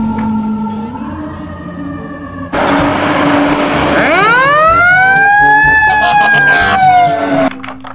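Wailing siren of a toy fire truck, starting from a low hum, then loud rising-and-falling electronic tones sweeping upward and holding steady for several seconds before cutting off, played close with no talking.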